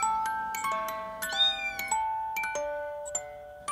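Cats are portrayed in a shadow theatre piece from The Nutcracker, where bright tonal notes with bell-like chimes ring and overlap over about four seconds, stepping through different pitches, with no speech.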